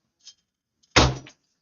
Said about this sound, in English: I'm going to count to three and then I'm closing the door.